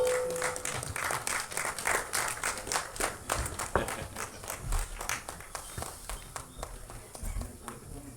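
A crowd at a music album screening festival applauds as a producer comes on stage, with steady, dense clapping that fills the room under faint background chatter.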